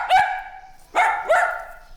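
An imported dog barks three times, the first bark sharp and the next two following close together after a pause, near and fairly loud with no talking.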